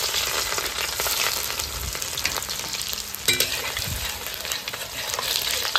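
Bay leaf, cumin, and chopped ginger and garlic frying in hot oil for a meat curry, giving a loud, steady close sizzle with occasional spoon scrapes and clicks, no voices.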